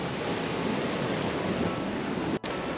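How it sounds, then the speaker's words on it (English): Ocean waves crash on the rocky shore at Bar Harbor, Maine, a loud, continuous wash of surf close to the microphone with no voices, broken by one very brief dropout near the end. "this is gorgeous with the waves and even crashing right here"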